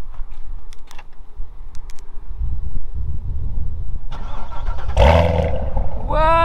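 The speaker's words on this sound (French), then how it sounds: "ça permet de chauffer la voiture en fait, tu peux la démarrer à la clé" A Corvette Z06 with an LT4 V8, started remotely by key with nobody inside, cranks and catches about five seconds in over loud background rumble, followed by a rising rev.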